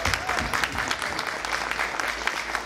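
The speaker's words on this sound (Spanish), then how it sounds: "pero que se oiga un fuerte aplauso." A crowd at a Hot Wheels collector awards event breaks into sustained applause, with dense clapping throughout and voices mixed in.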